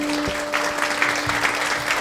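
Brief audience applause breaks out at a spoken-word poetry event, a short patter of clapping over a steady electrical hum.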